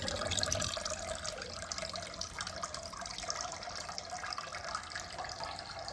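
Warm herbal decoction poured continuously over the body during an Ayurvedic hospital treatment, a soft steady trickle and splash of liquid running onto skin, faint and close, with no voices.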